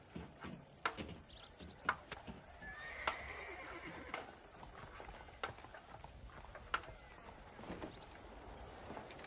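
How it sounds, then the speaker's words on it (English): Horses in the Western video game Red Dead Redemption give a faint whinny amid scattered hoof clops and small knocks, quiet and distant in an outdoor town setting. "Do you see those horses to the left by the building across the street?"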